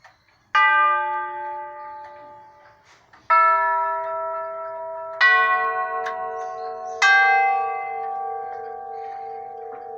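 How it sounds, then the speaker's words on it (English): A grandfather clock with eight chime tubes and a single hour tube rings four loud, resonant tubular chime strikes, each one ringing out and slowly decaying before the next, heard alone in a quiet room. "There's 8 chime tubes and 1 hour tube."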